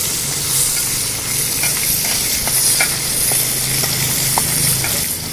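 Caterpillars fry in a pan for sambal, a dense, continuous oily sizzle and hiss with scattered small pops and occasional stirring scrapes, close and steady throughout.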